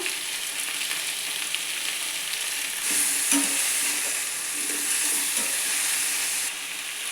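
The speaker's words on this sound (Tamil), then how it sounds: "நல்லா கிண்டு விட்டுக்கோங்க" Mixed vegetables for aviyal fry in hot oil with a steady, close sizzle, while a spatula stirs through them and gives a few soft scrapes and knocks in the middle stretch; no one talks.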